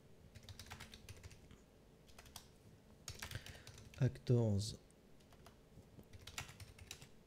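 Computer keyboard typing right next to the microphone: scattered clicky keystrokes tapping throughout, with a louder burst midway as someone speaks briefly over them.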